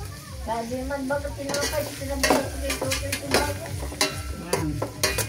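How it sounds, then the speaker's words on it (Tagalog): Vegetables sautéing for macaroni sopas, a steady sizzle with scraping stirs and a few sharp clinks of utensil on pan, close and fairly loud, with faint harmonic tones running underneath. "Gumigisa na ako ng aking mga gulay-gulay."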